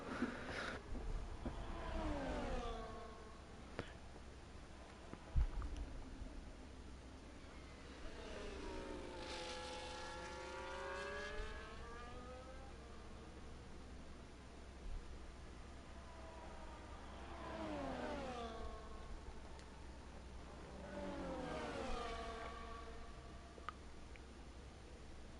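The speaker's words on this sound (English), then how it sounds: "Now we've got Avestegabali back into P1 with an overtake in turn 2 there." Formula 1 cars in the racing game F1 24 at the Austria circuit roar past in several separate passes, each a high engine whine that swells and falls, with quiet stretches between.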